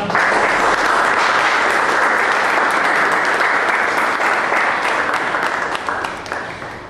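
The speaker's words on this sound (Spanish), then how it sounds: "Elvira Le recibimos con un fuerte aplauso para que ella dé lectura a nosotros" An audience at an evening gathering of poets and writers welcomes a poetry reader with loud, sustained applause, a dense wash of clapping that holds steady and then begins to taper off near the end.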